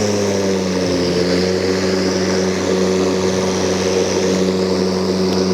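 A Milwaukee M18 FUEL self-propelled battery lawn mower runs at full speed, giving a loud, steady motor drone with a strong humming blade whine that holds constant throughout.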